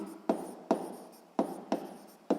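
A pen writes on paper in five short, scratchy strokes spaced about half a second apart, close and quiet, in a schoolwork setting with no voices.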